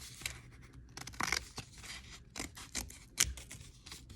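Scissors snip through a paper craft piece, a run of close, crisp cuts and rustling with uneven sharp clicks, with no voices.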